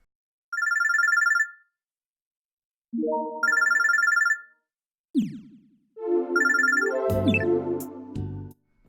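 A phone rings in the Robotics;Notes video game, a shrill electronic trill repeating in three separated bursts, with game sound effects and chimes breaking in between and after.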